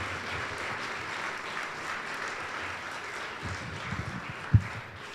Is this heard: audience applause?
yes